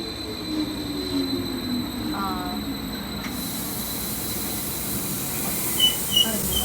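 At a German railway station, a train's low, even rumble and hiss fill the air as a steady, moderately distant background, with a couple of brief metallic knocks near the end.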